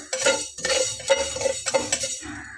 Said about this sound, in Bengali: তো বেশ একটু নাড়িয়ে চাড়িয়ে দিয়ে ভেজে নিতে হবে